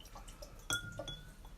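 A big homemade ice block, frozen from water, drops into a glass for a gin cocktail, making a sharp clink followed by a lighter knock and faint watery sounds, quiet and close.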